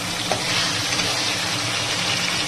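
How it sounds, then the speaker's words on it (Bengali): Katla fish frying in hot oil gives a steady, loud, even sizzle that runs unbroken throughout, with a faint light tap early on and no voices. "মাছটাকে আগে তেলে ভেজে নেবো"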